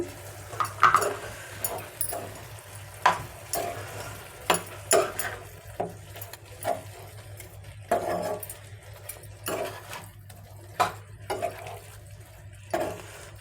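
A spoon stirs ground masala for chicken ghee roast in a pan, giving scattered scraping and clinking strokes at an irregular rhythm over a low steady hum, close and moderately quiet.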